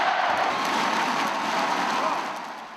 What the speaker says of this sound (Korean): 가족은 격려의 박수를 보낸다.